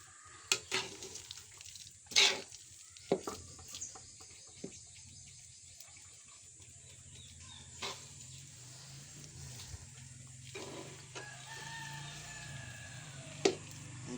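Pure purple yam (ube) mixture with no food coloring being stirred in a pan, soft intermittent scraping and wet sticky stirring sounds alongside a faint sizzle, with a few sharper knocks and clinks scattered through.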